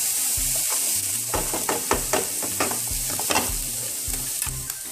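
Squash sizzles and fries in an oiled pan, with a steady hiss broken by repeated clinks and scrapes of stirring, close and fairly loud, with no talking.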